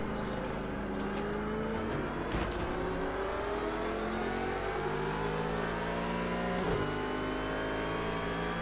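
A Ferrari GT3 race car in Project CARS 2 at Oulton Park, its engine loud and steady, revving with rising and falling gear pitches and shifts. Another car passes close around mid-clip.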